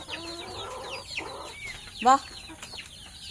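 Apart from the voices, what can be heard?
hens and rooster clucking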